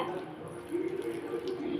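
Water poured into a pan with palm jaggery to make syrup for jaggery idli, a soft steady trickling stream, faint and close.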